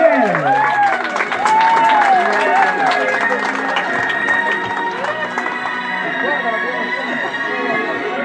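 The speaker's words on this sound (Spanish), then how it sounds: "¡Venga, fuerte los aplausos también!" Guests applaud and cheer at a quinceañera party in Honduras, a dense crowd of clapping with shouts and whistles, while a voice over loudspeakers talks on top near the start and the applause carries on underneath.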